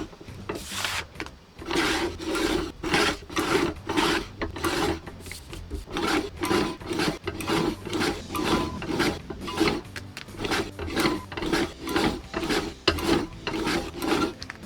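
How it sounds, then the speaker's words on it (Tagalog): Sliding cutter slicing through a laminated paper sticker, a steady run of rapid, evenly spaced rasping strokes close to the mic, continuous for the whole stretch with no voices. "pwede natin siyang i-cut ng ating sliding cutter"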